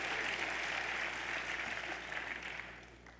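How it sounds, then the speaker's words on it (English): Audience applause at the New York City mayor's State of the City address, a steady wash of clapping that holds for most of the stretch before thinning and fading toward the end; no voices. "You can clap for that, taxpayers."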